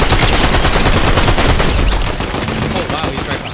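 Rapid, sustained automatic gunfire in the Fortnite battle royale game, a loud continuous barrage of shots that fills the whole stretch and eases slightly in the final second and a half.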